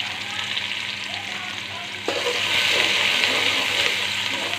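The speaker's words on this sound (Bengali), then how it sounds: "এবার আমি পেঁয়াজ দিয়ে দিচ্ছি।" Onions hit hot oil already seasoned with a whole cardamom pod and a cinnamon stick for a rohu fish curry, raising a loud, steady sizzle that jumps in intensity midway and keeps crackling close up.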